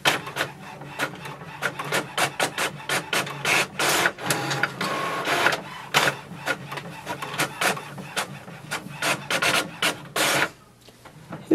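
An HP OfficeJet Pro 8028 wireless printer runs off a document, its mechanism giving a rapid, uneven series of close clicks, rasps and feed strokes that stop abruptly near the end.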